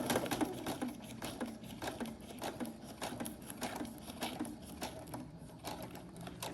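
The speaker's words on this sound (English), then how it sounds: "just go under the machine and about 1/2 inch away from where our line is, and you're just gonna stitch across" A sewing machine stitches across a fabric ruffle bag in a steady, rapid mechanical patter, close and continuous throughout with no talk.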